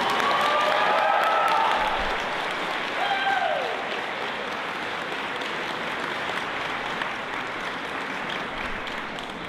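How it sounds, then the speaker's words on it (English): Large audience at a high school graduation ceremony applauding the class of 2022, a sustained wash of clapping with some cheers that slowly fades, heard from within the crowd. "Let's give these grads a big round of applause."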